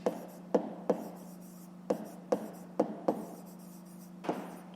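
Numbers being written on paper while solving a fifth-grade maths exercise: a handful of short, close pen taps and strokes at irregular intervals over a faint steady hum.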